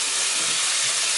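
Onions, peppers and Scotch bonnet sizzling in hot oil in a pan, a loud continuous hiss that stays steady throughout, no talk.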